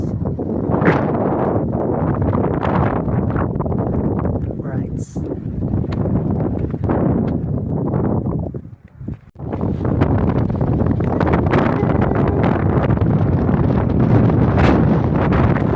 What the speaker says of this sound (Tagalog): Maganda ng simoy ng hangin dito guys.